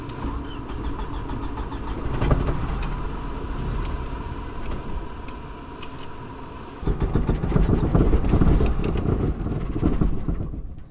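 Deep car exhaust rumble from the engine, loud and heavy, swelling and building in power partway through as the car accelerates hard.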